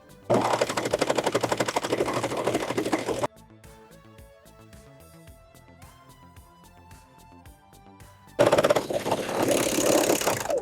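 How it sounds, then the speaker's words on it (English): A serger stitching batting to fabric for an ironing board cover whirs loudly in two rapid mechanical bursts, separated by a quieter stretch of soft background music. "Now let's go serge this together."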